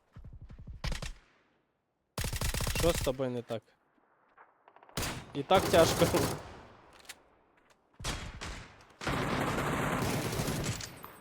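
Bursts of gunfire in a PUBG clan battle between GGUA and VIBE, several loud volleys separated by short gaps, with players talking over and between the shots.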